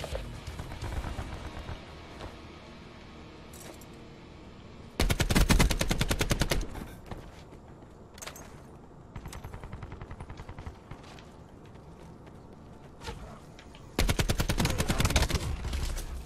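Automatic gunfire in the Call of Duty Black Ops 4 video game, with several loud bursts of rapid machine-gun fire broken up by quieter stretches of scattered shots and game sounds.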